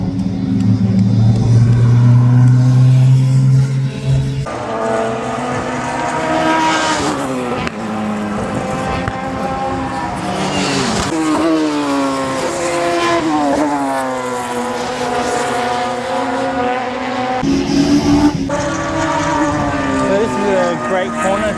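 Race cars in a Supersports MRA event scream past at Sydney Motorsport Park, barreling over the top of a tunnel in a series of loud, close passes with rising and falling engine pitch and shifts.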